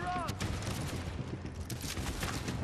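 Gunfire from a gun in the video game The Division, a rapid string of close, crackling shots running steadily under someone talking.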